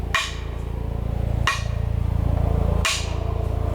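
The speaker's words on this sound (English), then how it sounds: "I think just a couple more taps," A hammer strikes the head of a Husqvarna 26-inch forest axe three times to work the handle loose, each tap sharp and ringing. The taps are spaced about a second and a half apart over a steady low hum.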